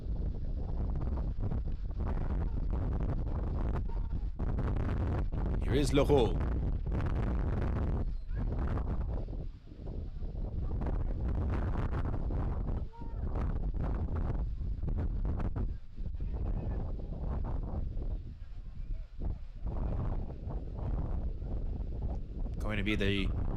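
Strong gusts of wind buffet the microphone at an outdoor soccer stadium during an MLS Next Pro match, making a constant heavy low rumble beneath a commentator's continuous speech.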